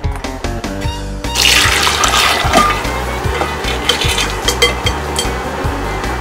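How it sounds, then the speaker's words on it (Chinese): Warm water rushes and splashes loudly as pork ribs are washed, with steady sloshing over a faint, rhythmic musical backing that plays alone for the first second. "一定要用温水把排骨洗两遍，第二遍洗呀就非常洁净了。"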